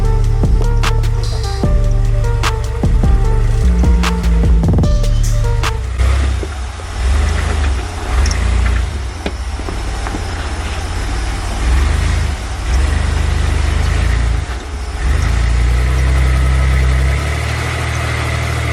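Engine of a 4x4 rock crawler buggy revving hard as its tires slip and spin on rocks, a loud low rumble that rises and falls with clattering and scraping over it, close and without talking.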